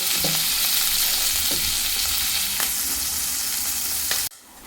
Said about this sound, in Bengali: এখানে বাকি মাছগুলো ভাজতে দিয়ে দিয়েছি, এগুলো লাল করে ভেজে তুলে নিব